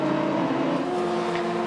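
Van Diemen RF84 F3 race cars at Donington Park, engines droning at a steady high pitch through the whole short moment, close and sustained with no speech.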